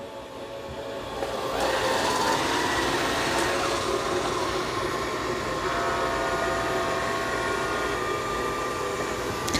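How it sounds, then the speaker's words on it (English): A robot vacuum-mop runs in mop-only mode with its suction off, a steady mechanical whir that starts after a moment and holds evenly and fairly close for the rest of the stretch. "turned the vacuum off, and is mopping only."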